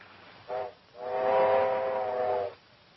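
A steam locomotive whistle, heard as a train pulls into a 1930s-style station, gives a short toot and then one long, loud, steady blast that cuts off sharply.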